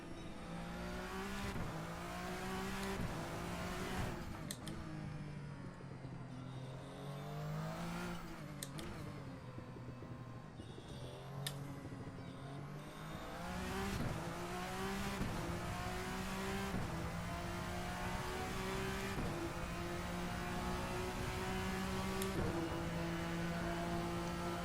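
A VRC Vendetta V60 race car with a turbocharged engine in Assetto Corsa revs continuously, its engine note climbing and dropping through repeated gear changes, with brief sharp shift cracks, sustained and steady with no talking.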